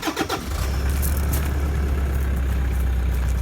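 A car engine cranks and fires up on start-up, then settles into a steady, loud low idle that runs continuously to the end, with no talking.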